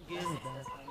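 Swedish flower hens clucking up close, a short run of throaty, wavering clucks with a brief higher cackle, heard alone.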